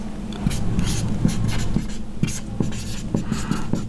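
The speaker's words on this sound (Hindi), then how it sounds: "मैं लिख दे रहा हूँ।" Writing on a board makes quick, scratchy strokes and taps in an irregular rhythm, close and clear over a quiet room.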